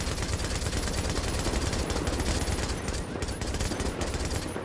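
Rapid bursts of automatic gunfire crackle continuously in Tom Clancy's The Division, dense and loud, with explosive game effects and no clear speech.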